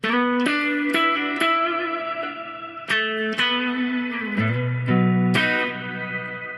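Close electric guitar through an Oceans 11 reverb pedal with shimmer, several plucked notes and chords ringing into lush, high sparkling reverb tails, with a deeper chord near the end and no voices.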